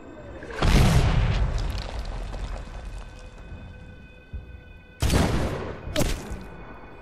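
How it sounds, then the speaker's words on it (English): Mortar rounds explode in a combat scene, with two loud booms that each roll off into a long rumbling tail and a sharper burst following the second one. "Mortar inbound."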